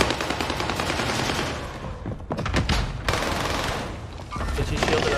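Rapid automatic gunfire from a Vanguard PPSh in Call of Duty Warzone on Fortune's Keep, loud sustained bursts with a brief pause midway before firing resumes.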